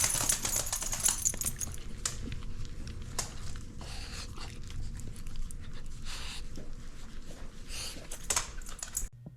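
A dog greets its owner after a month apart, panting rapidly and steadily up close, with claws clicking and tapping on the floor and some rustling throughout.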